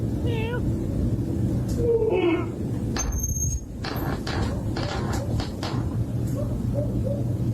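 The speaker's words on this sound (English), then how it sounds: "The cat's calling." A cat meows several times, short rising calls scattered through the clip over steady background rumble and some distant voices.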